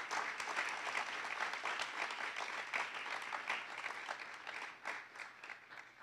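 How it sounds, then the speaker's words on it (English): An audience at a community college anniversary kickoff gives a round of applause, dense steady clapping throughout that tapers slightly near the end. "Let's give them a round of applause for all of their efforts."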